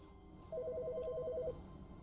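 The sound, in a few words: phone ringing in the video game The Stanley Parable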